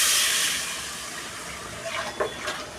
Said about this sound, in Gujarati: હવે અંદર પાણી જશે.